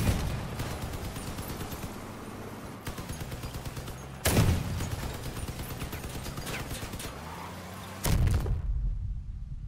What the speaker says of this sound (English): the big cannon's kind of hard to aim with